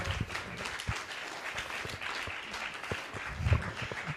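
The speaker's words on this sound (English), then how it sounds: "Give him a round of applause, everyone." An audience applauds at the close of a talk on start-up business development, a steady wash of many hands clapping that carries on at a moderate level throughout.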